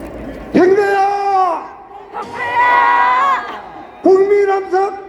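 A crowd at an outdoor political rally of Jinju Daea High School alumni shouts slogans in unison. There are three loud chanted phrases with short pauses between them, and the massed voices are close and strong.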